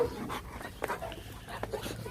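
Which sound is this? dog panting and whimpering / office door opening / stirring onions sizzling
dog panting and whimpering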